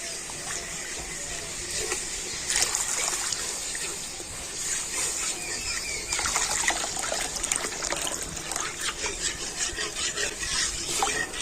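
A spoon scrapes and swirls through a grape and cornflour mixture in sugar syrup, giving continuous wet rubbing and sloshing strokes at close range, while someone talks over it.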